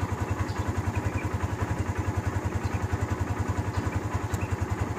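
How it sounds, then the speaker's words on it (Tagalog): A motorcycle engine idles nearby while warming up, a steady, even chugging pulse that continues without a break throughout. "nahihinay para uminit yung motor ko."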